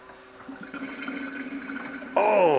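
Quiet watery gurgling builds up inside a Europa aircraft engine as it is burped, then a louder rushing, flushing gush of liquid swirls at the end.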